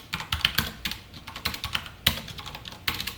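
Rapid keystrokes on a computer keyboard as Python code is typed, clicking in uneven bursts with short pauses, close and clear with no talking.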